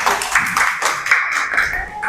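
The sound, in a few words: classroom applause for group 4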